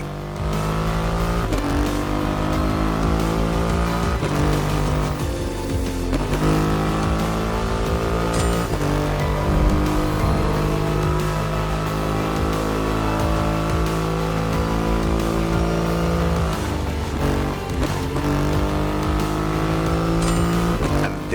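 Heavy engine of a Triumph Rocket 3 motorcycle with a 2.5-litre engine in the racing game The Crew Motorfest, a loud steady drone with shifting harmonic revs and brief throttle changes, continuous throughout with no talking.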